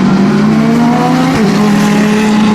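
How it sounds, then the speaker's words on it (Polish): Race car engines roar loudly and continuously at Suzuka Circuit during a race event, a sustained droning blare with a brief pitch dip partway through. "czuję te silniki, czuję to naprawdę."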